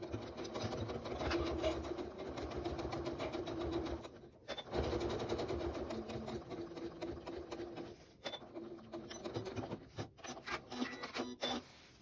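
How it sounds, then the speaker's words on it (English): A sewing machine runs in bursts while stitching a quilt piece, with a steady mechanical whir broken by short pauses and a few quick stop-start runs for back stitches near the end. "go 1 or 2 stitches past the battleizer, do another couple of back stitches, and take it out of the machine"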